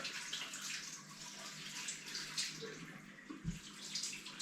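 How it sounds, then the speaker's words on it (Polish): Warm tap water running over salted sausage casings in a kitchen, a steady hissing splash with faint irregular drips and a low thump, moderately quiet, with no talking. "Umyjemy je z soli, przepłuczemy w środku troszkę."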